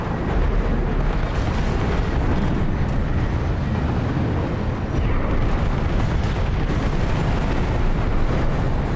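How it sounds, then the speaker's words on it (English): Loud, continuous barrage of rocket fire and explosions from a mech battle in Armored Core VI: Fires of Rubicon, a dense roaring rumble sustained throughout with no gaps. "I sent a lot of rockets in that dude's face"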